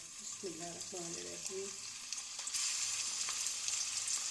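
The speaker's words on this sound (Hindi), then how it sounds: "ये अब एक एक करके तेल गरम हो गया, एक एक करके कबाब तलूँगी मैं।" Seekh kebabs fry in hot oil with a steady, close sizzling hiss that swells louder in the second half, with someone speaking briefly at the start.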